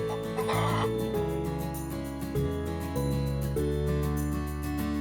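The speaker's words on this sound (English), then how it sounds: "I'm a chicken." A farm chicken clucks and crows close up over a steady, tonal musical background, with no one speaking.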